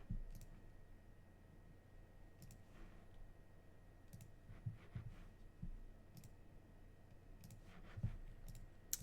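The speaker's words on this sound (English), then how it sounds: "There's so much clicking." Computer mouse clicks while working through a long card-game combo, quiet sharp taps scattered irregularly over a low background hum, a few close together, with no talk.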